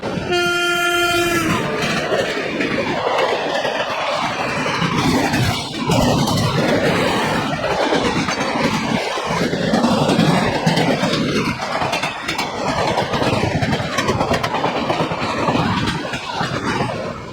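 A train horn blares briefly, then the Farakka Express passenger train rumbles loudly along the rails into Deen Dayal Upadhyaya Junction with a steady roar and rhythmic clatter, heard from close by.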